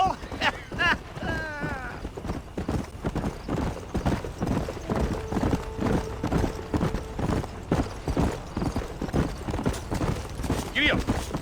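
Steady clip-clop of horse hooves runs throughout a Red Dead Redemption gameplay scene, with a brief neigh early on, under ongoing character dialogue.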